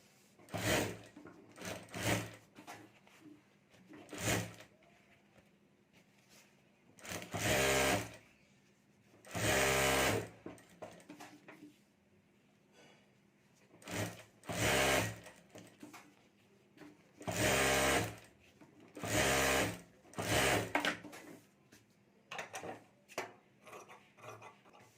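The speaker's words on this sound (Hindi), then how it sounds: "और अब यहाँ ऊपर हमें सिलाई कर देनी है।" Sewing machine stitching a fabric mobile cover sling bag in several close bursts of rapid whirring, some short and some a couple of seconds long, separated by quiet pauses.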